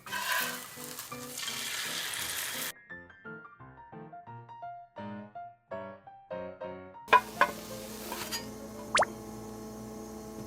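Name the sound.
egg mixture frying in pan for Japanese rolled omelette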